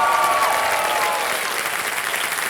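Studio audience applauding a contestant on a television quiz show, dense steady clapping throughout, loud and close, gradually easing toward the end.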